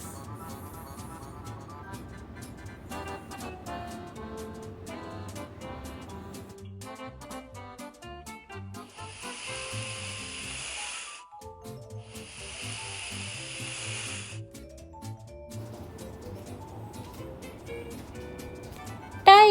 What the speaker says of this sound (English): Snake. This is snake.